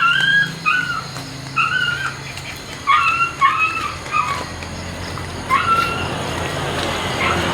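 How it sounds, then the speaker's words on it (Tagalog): A dog whimpers and yips in repeated short, high whines, some near and some farther off, over a steady low hum of background noise. "Yung aso gustong sumama."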